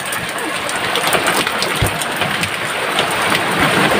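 Heavy rain pouring down at sea during a storm, a dense continuous hiss of drops with occasional louder patters, steady and close throughout.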